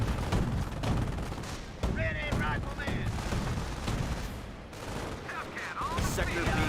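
Gunfire from an anti-tank gun in the strategy game Company of Heroes, repeated sharp reports and crackling shots within a dense battle mix, loud and continuous with other weapons and explosions throughout.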